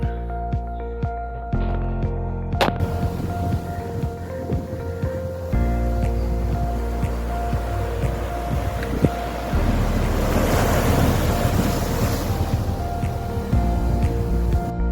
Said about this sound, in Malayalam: ഇതാണ് ചെല്ലാനം ബീച്ച്